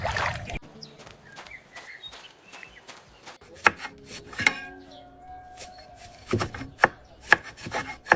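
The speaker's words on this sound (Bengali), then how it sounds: "এখন শুকনা মরিচ বেটে নিচ্ছি" Dried chillies are ground into spice paste on a grinding stone in a village kitchen, with sharp irregular scraping and knocking strokes that come close and distinct against a quiet background.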